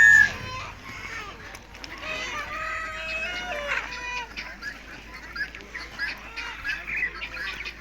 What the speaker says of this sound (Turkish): Ufacık tavuklar var.